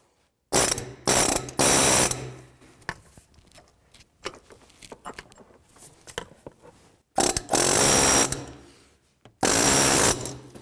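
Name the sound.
fan clutch tool with 36mm adapter loosening harmonic balancer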